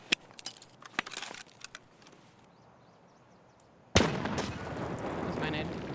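A grenade goes off in Escape From Tarkov, a sudden loud blast that opens into a sustained, broadband roar of debris and ringing, following a quieter stretch of scattered clicks and distant pops.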